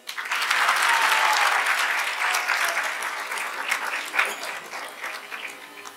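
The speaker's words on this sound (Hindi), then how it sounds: "सब तालियां बजाओ।" An audience at a Jagannath Katha gathering in Amritsar bursts into sustained applause, a dense, steady clapping that swells quickly and tapers slightly over six seconds.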